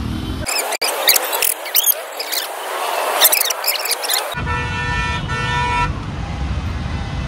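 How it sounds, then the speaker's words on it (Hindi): Car horns honk in short bursts amid busy city traffic near a mall in India, several toots in a row over the hum of vehicles, with someone speaking nearby. "ए हॉर्न कम मार दे भाई"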